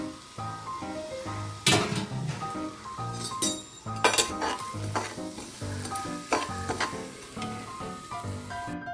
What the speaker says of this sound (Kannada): ಇದು ಬನ್ಸಿರವ ಸ್ವಲ್ಪ ಎಣ್ಣೆ ಹಾಕಿದ್ದೀನಿ ಎಣ್ಣೆಯಲ್ಲಿ ಇದನ್ನು ಹುರಿತಾ ಇದ್ದೀನಿ